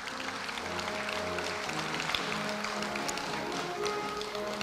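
An audience at a Korea University anniversary ceremony applauds an award recipient, a steady, fairly soft wash of many hands clapping that holds evenly throughout.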